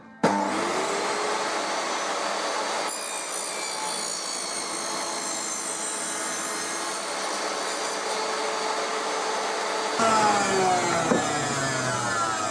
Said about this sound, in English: then I can make the first cut, and this will be to cut the mortise